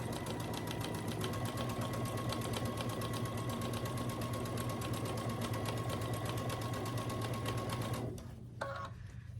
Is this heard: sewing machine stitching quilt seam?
yes